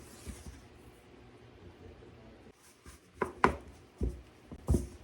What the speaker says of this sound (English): Stir it and get it crumbly.